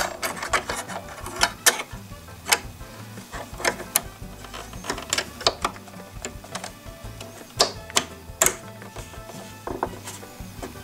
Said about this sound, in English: Now we're ready to put our metal plate back.